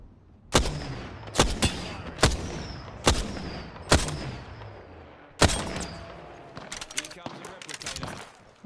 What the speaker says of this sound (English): Another team shooting at me, man.